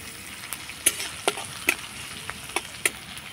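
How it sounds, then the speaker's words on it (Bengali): Green chili and grated ginger sizzle in hot oil with whole cumin, a soft steady crackle broken by a series of sharp spoon clicks against the pan, with no voices. "লঙ্কা আদাটা আমি হালকা ভেজে নেব।"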